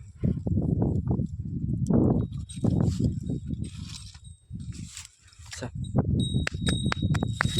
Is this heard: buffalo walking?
yes